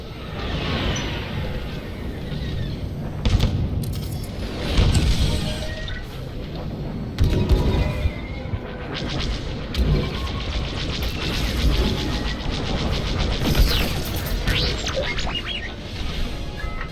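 Starfighter weapons fire and explosions in Star Wars: Squadrons: a dense, loud, continuous wash of engine roar, laser blasts and booming impacts, with bursts of heavier blasts rising out of the steady din.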